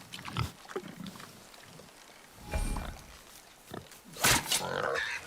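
A wild boar in the God of War video game grunts in several short, rough bursts, separated by quiet gaps and mixed with game sound effects.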